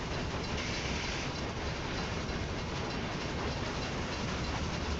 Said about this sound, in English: Looks like all those old trains are actually moving.